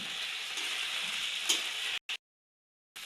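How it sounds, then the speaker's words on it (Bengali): Curry leaves and a rice-semolina mixture sizzle and crackle in a hot pan, a close, steady frying hiss that cuts off abruptly, with short bursts after a gap. "তো দেখুন, ভাজা ভাজা করে নিচ্ছি।"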